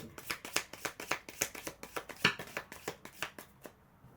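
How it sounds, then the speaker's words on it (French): A deck of oracle cards is shuffled up close in quick, papery riffling bursts, about a dozen crisp flicks in a fairly regular rhythm that then stop, with no talking. "Par contre, elles sont tellement nombreuses que pour tirer les cartes, c'est un peu compliqué."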